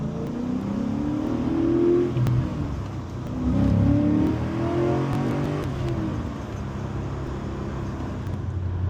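A 6.2-litre V8 in an HSV VE Maloo R8 ute drones steadily while driving on a highway, with low engine tones rising and falling through gear changes amid road noise.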